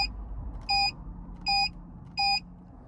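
Ghost 2 immobiliser fitted to a 2022 Toyota Yaris Cross sounds three clear, evenly spaced electronic beeps over a low, faint background rumble.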